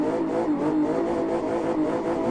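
A modded BMW E30 in the Live for Speed driving game revs steadily at close range, its engine note holding high and droning with slight pitch wobble throughout, with no talk over it.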